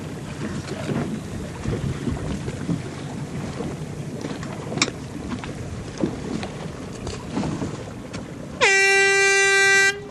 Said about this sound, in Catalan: El comitè acaba de pitar l'arribada d'aquesta guanyadora.